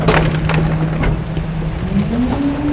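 Loud crunching and splintering of wood under a heavy industrial blade at about 1,500 PSI, with a low mechanical drone and a rising whine, close up.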